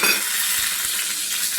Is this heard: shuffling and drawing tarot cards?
no